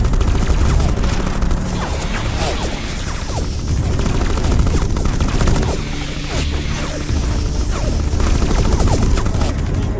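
Dense sustained gunfire from the Marvel Future Fight video game, rapid continuous automatic shots and impacts filling the whole stretch loudly with no pauses.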